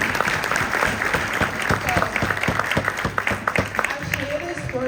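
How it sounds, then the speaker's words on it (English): Audience applause at a keynote speech at a conference, steady dense clapping throughout with a voice talking over it and a faint tonal hum underneath. "Let's give that a round of applause."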